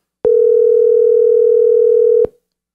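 A phone tone plays during an outgoing call, a single steady, loud electronic tone that holds for about two seconds and then cuts off abruptly, heard alone without voices.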